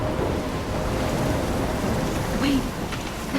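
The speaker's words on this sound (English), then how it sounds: "I'm trapped in a storm?" A storm in Life Is Strange brings steady heavy rain with a deep rumbling undertone of thunder, loud and close throughout, while a voice is faintly present beneath it.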